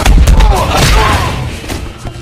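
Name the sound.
explosion in action film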